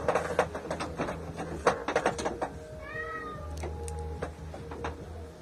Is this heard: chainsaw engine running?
no